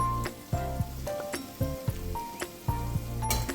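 Dahi bhalla lentil dumplings frying in oil over a slow medium flame, giving a soft steady sizzle under repeated clinks and knocks of a utensil against the pan.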